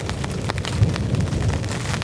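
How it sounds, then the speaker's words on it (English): Thunder and heavy rain at a winter campsite, a deep continuous rumble under a dense hiss of rainfall, fairly loud and steady for the whole stretch. "Holy moly, that's some serious thunder."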